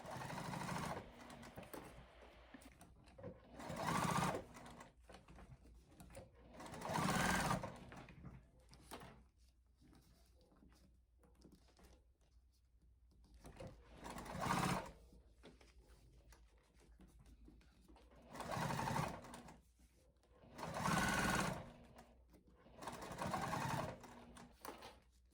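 A home sewing machine stitches a crossbody bag, pivoting to run across a short edge. It plays in several separate bursts of steady motor whir with quiet gaps between them, close and fairly soft, and no voices.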